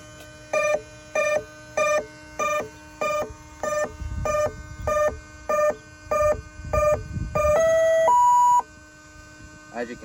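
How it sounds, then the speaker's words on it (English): A 12S power setup on an FMS Extra 330 2000mm RC plane, with gyro, chirps once plugged in: a steady run of about twelve short, evenly spaced electronic beeps followed by two longer rising tones, clear and close over a faint hum. "you can hear a series of beeps again to indicate"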